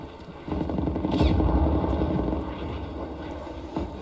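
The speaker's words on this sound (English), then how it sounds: "Hostile spy plane established overhead." A hostile spy plane passes overhead in a first-person shooter video game, its engine drone swelling loud in the middle and then easing off, with faint game noise around it.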